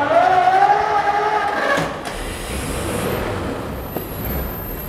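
A vintage engine at a museum in Maungatapere, New Zealand, is started on choke. A falling whine comes first, then the engine catches with a sudden whoosh and settles into a steady, fairly quiet hiss.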